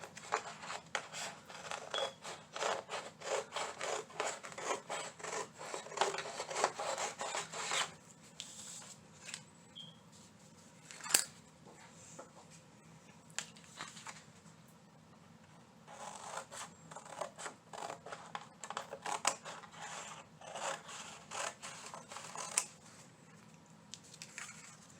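Scissors trim a Dollar Tree Easter decoration, with close, quiet bursts of snipping and paper rustling that come in clusters separated by pauses.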